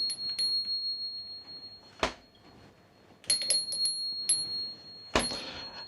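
A bell fitted on a freezer rings in several short, bright dings, close by, separated by quiet room noise with no talking.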